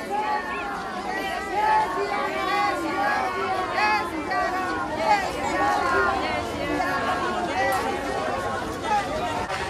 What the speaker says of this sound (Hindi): सब लोग जय सिया राम के नारे लगा रहे हैं